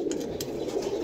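Pigeons, including a blue pair, coo briefly in a bird house in Jhelum, a soft low murmur with a couple of faint higher chirps, close and quiet.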